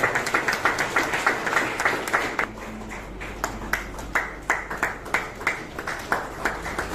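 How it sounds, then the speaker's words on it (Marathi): An audience at a World Environment Day 2023 event claps in a steady run of sharp, distinct hand claps at moderate distance, rising and falling in density. "जोरदार टाळ्या."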